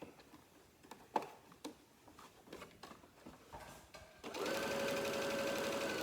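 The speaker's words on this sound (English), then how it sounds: "the sewing or the quilting just gives it a little depth" A sewing machine quilting a thin fleece panel blanket starts after scattered handling taps and then runs in a steady, fast whirring stitch, close and clear, with no talk.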